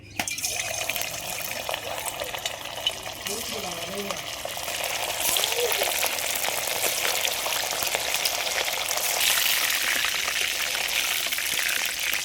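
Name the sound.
chicken frying in hot oil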